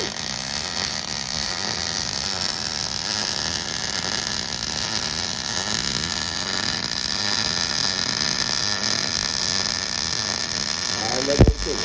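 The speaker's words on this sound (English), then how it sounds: "That was your first weld." MIG welder laying a small bead at a welding school, a loud, steady crackling hiss that runs unbroken for the whole stretch, with a sharp knock just before it ends.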